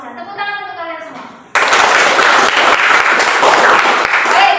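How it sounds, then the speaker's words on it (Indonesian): A teacher speaks briefly in Indonesian, then a burst of loud, dense applause from many hands in a classroom takes over and carries on steadily to the end. "Tepuk tangan untuk kalian semua."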